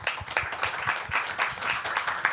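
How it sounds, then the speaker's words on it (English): A room full of people applauds steadily, dense clapping that holds an even level from start to finish. "Please give me your round of applause for the moderator and invite her on the stage."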